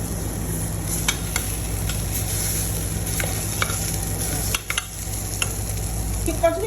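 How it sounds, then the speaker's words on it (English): Pepper chicken frying in a pan, a steady close sizzle with repeated scraping stirs of a utensil against the pan at irregular intervals, no talking. "Keep continue frying it."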